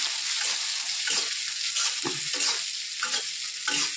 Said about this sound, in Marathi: कांदा मिरची सोडली मी आता छान पोहेसाठी.